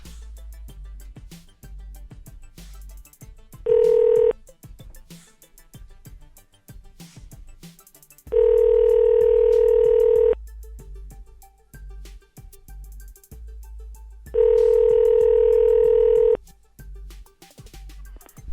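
An international telephone call to Canada rings out on the line: three long electronic ring tones separated by pauses, over faint low background hum and clicks, with no one speaking yet.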